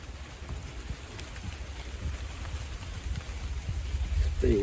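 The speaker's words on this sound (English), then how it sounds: "It'd be just the rain in a way." Steady rain falls on a campsite with a continuous hiss and patter, occasional louder drops, no voices.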